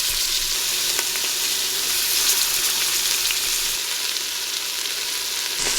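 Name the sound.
beef browning in Instant Pot, sizzling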